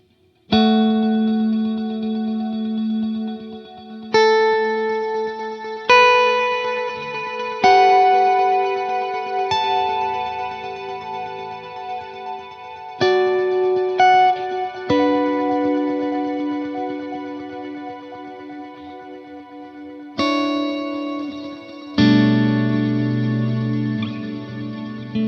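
Sustained electric guitar chords ring out through a lush, shimmering quad diffuser multi-tap delay and chorus effect, each strum trailing into spacious echoes, no talking.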